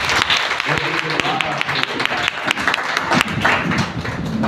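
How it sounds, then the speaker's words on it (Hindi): A church congregation clapping in praise, a dense patter of many hands with thumps and taps, mixed with a voice talking over it. "मसीह के लिए हम ताली बजाएं"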